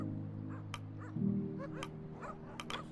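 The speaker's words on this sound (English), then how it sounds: "She points at the dog tearing the fillet from its sibling." Sled dogs in The Pale Beyond fighting over a fish fillet, a low rumbling growl that grows louder partway through, with short yips and whimpers breaking over it.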